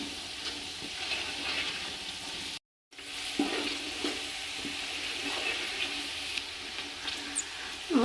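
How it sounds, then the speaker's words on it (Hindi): Rice and green peas roast in a pot for matar pulao, with a soft, continuous sizzle and scraping stirring sounds, fairly quiet and close, broken by one brief gap. "अच्छी तरह इसे मिक्स करेंगे। थोड़ी देर के लिए इसकी भुनाई करेंगे।"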